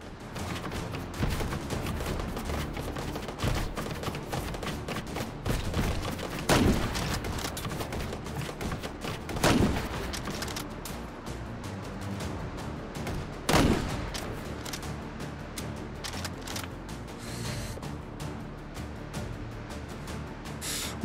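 Gunfire in the VR game Hot Dogs, Horseshoes & Hand Grenades rattles steadily and fairly quietly in rapid, continuous bursts, broken by a few louder sharp cracks.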